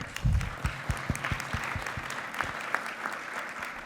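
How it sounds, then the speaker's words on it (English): An audience at an awards event celebrating twenty young people in their twenties gives a short round of applause, a dense, steady patter of many hands clapping at moderate distance with no voices over it. "If everybody can join me in giving them a quick round of applause."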